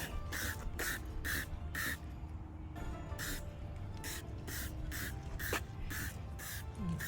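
Repeated short hissing bursts from a spray bottle of Muc-Off cleaner on a Harley-Davidson motorcycle, about a dozen quick squirts in an irregular rhythm, close up and fairly loud over a steady background hum.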